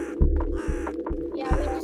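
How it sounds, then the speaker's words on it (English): A crow caws outdoors in a series of repeated calls, each harsh note spaced about half a second apart over a low throbbing hum, fairly close and clear with no talking. "You guys hear something? I hear like bird."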